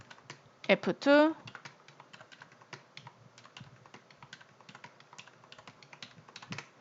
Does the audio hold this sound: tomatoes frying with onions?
no